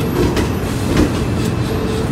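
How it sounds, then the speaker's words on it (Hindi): A metro train in Manila runs loudly and close, a constant rumbling roar with clickety-clack wheel beats and faint squeals over the rails. "ये है मेट्रो ट्रेन यहाँ की।"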